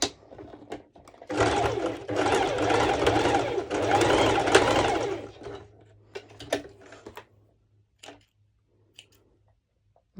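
A sewing machine runs a quick stitching burst on a mesh sporty top, loud and close for a few seconds, then stops amid scattered handling clicks and a low hum.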